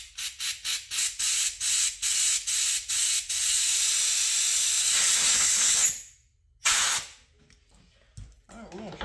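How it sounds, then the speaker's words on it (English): Aerosol carburetor cleaner sprayed onto a Briggs engine carburetor: a run of short hissing bursts gives way to a long steady spray, then one more brief blast, close and loud, with faint talk at the end. "this damn carb cleaner should be lifting that thing."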